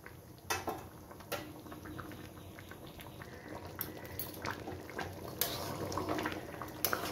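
Potato curry (aloo dum) boiling hard on high flame, a steady low bubbling with scattered pops and a few sharp clinks of a utensil against the pot.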